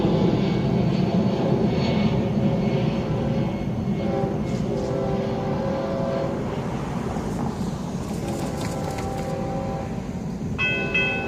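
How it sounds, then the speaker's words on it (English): A fixed-wing airplane passing overhead beside a Florida East Coast rail line, a continuous loud engine drone and roar with shifting tonal whine, steady throughout and no talk. "Got a plane passing overhead."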